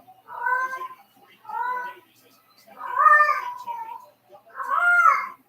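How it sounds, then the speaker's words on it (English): A cat in heat yowls loudly in four long, drawn-out, wailing meows spaced about a second apart, close to the microphone in an otherwise quiet room. "That was my cat."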